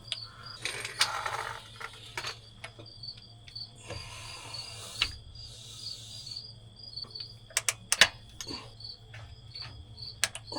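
Torque wrench tightening bolts to 200 foot-pounds on a Detroit 12V71 diesel engine: sharp ratchet clicks in scattered bursts with a metallic clank, over faint background insect chirping.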